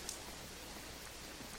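Rain falling as a steady, faint, even hiss with no distinct drops standing out. No voices are present.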